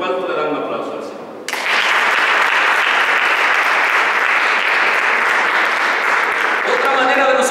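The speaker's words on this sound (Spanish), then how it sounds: "¿Cuánto le dan un aplauso al Señor?" Sustained applause from a church congregation praising the Lord, loud and dense, beginning abruptly after a brief spoken lead-in and continuing steadily to the end.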